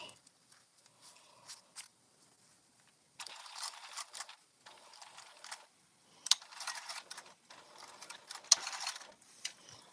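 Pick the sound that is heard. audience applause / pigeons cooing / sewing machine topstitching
sewing machine topstitching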